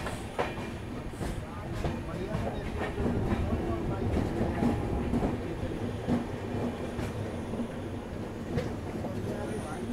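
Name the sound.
Dakshin Express train running after departing Jangaon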